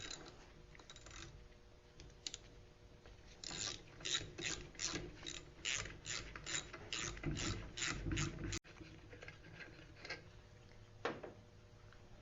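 A hand ratchet works head bolts loose on a small engine, giving a long run of fast, evenly spaced metallic clicks up close, with slower clicking before and after and a quiet workshop background.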